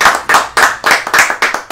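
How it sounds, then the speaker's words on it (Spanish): Loud, close applause for a prize winner: rhythmic claps at a quick, even beat, each hit sharp and distinct. "Un aplauso para Gustavo Quechol."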